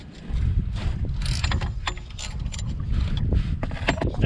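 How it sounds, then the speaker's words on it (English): Socket wrench with a long extension working a bolt loose on a Smart Fortwo rear hub, close metallic clicks and rattling scrapes over a dull rumbling mechanical noise, no speech. "Then once it's loose, you can use the extension to unscrew the bolt."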